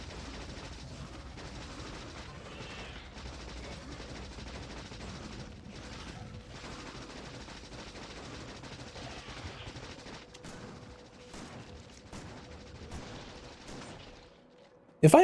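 Rapid continuous gunfire from a multi-projectile weapon in Factorio, a dense rattling stream of shots at moderate loudness that runs steadily for over ten seconds before thinning out and stopping, with a sharp click at the very end.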